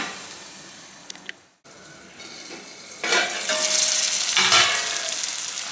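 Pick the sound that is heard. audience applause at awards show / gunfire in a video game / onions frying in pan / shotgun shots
onions frying in pan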